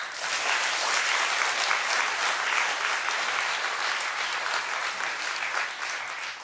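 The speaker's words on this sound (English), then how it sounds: "Clap if you know what they mean." A studio audience at a daytime television talk show claps in a dense, even burst that holds steady for several seconds and then starts to taper off.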